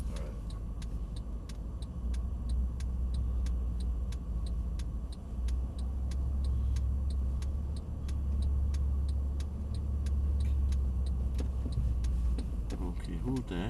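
Car driving slowly and turning during a driving lesson, a low, steady engine rumble from inside the cabin with a regular ticking indicator over it.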